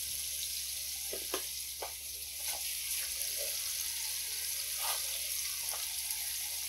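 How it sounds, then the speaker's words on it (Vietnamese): Oyster mushrooms fry in hot oil until crispy, giving a soft, steady sizzle with a few scattered crackles and pops. No one speaks. "Nấm bào ngư á, mình chiên cho nó giòn lên"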